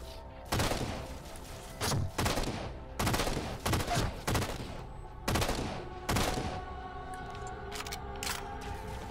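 Gunfire in the Halo 4 video game: several sharp bursts of shots in quick clusters, loud and close, separated by brief lulls with a low background hum.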